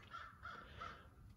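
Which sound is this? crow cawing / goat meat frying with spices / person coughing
crow cawing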